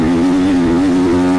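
A motocross bike fitted with an enduro exhaust runs close by at a steady, loud engine note, a continuous buzzing drone with no talk over it.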